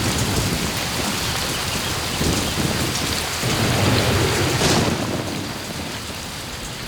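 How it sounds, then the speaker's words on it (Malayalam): Steady downpour and rumbling thunder used as a storm effect in a dubbed Malayalam devotional serial, loud and unbroken, with a thunder swell midway and no speech. "എത്ര നാളായി മഴ പെയ്തുകൊണ്ടിരിക്കുന്നു."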